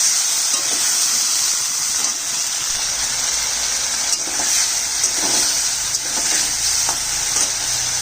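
Turmeric, ginger, cumin, green chilli and coriander sizzle in hot oil with fried potatoes in a pan, a steady loud frying hiss broken by faint scraping stirs, with no voices.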